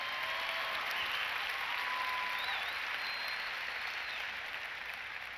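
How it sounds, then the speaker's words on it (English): A vast convention crowd at the National FFA Convention applauds a keynote speaker, a broad, distant wash of clapping that holds steady and slowly tapers, with faint whoops rising above it. "yeah, you can applaud to that"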